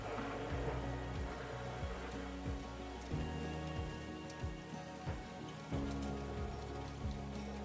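Steady rain falling on the ground of a rural 15-acre property, a continuous patter of drops with some heavier drips, alone without voices.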